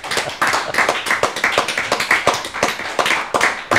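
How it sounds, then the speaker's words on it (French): A small dinner audience claps for a guest, a close burst of quick uneven hand claps that holds steady for a few seconds without any cheering. "Pas mal, on l'applaudit s'il vous plaît"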